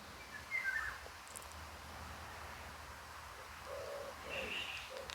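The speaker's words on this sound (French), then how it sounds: "Ici, j'ai le chant des oiseaux." Birds call faintly outdoors, scattered short chirps near the start and end with soft low cooing between, distant and quiet over a steady hushed background.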